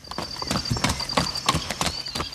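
Hooves of a mule moving in a triple-support gait clop on the ground of a coffee yard, a close, steady, rhythmic pattern of sharp strikes with no talking.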